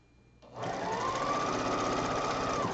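A sewing machine stitches a quilt block and starts up abruptly after a quiet moment. It then runs at a steady, fast, even whir close by, with no voices.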